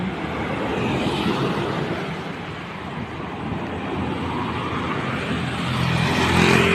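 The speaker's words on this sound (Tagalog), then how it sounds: "Ayan, maraming dumadaan na sasakyan." Many vehicles stream past on the road outside a school, a dense continuous roar of traffic with engines swelling as cars pass close by.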